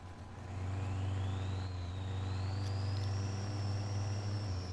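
A Ram truck engine in a video game idles with a deep hum, then revs up, its whine climbing steadily and holding high near the end, close and continuous.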